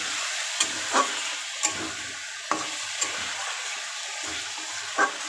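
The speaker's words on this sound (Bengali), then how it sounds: "খুলে নিয়ে এবার আমি একটু নেড়ে দেবো" Fish and bitter gourd curry stirred in a pan after the lid comes off, with a low background sizzle and about eight separate scraping spoon strokes spread unevenly across the stretch, close and with no talking.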